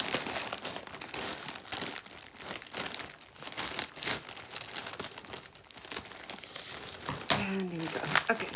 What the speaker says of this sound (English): I'm just going to go right ahead and open this with my scissors